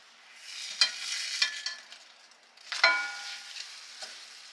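Crepes cook in a CeramiClad non-stick frying pan, with soft sizzling and a few scraping, stirring strokes against the pan, near but fairly quiet.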